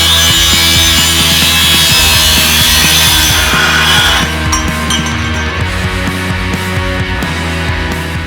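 A power tool cuts through exhaust pipe for a 1966 Ford Galaxie's NASCAR-style exhaust, grinding loudly and continuously with a rasping metallic buzz that thins out partway through without stopping.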